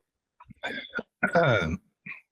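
A few close, sharp coughs and throat-clearing bursts, separated by short silences.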